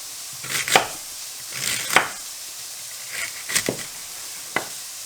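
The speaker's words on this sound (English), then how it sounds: "if we cut it into slices" A knife chops through a fennel bulb into rough slices on a board, giving about five separate crisp cuts spaced a second or so apart, close and fairly quiet with no talking.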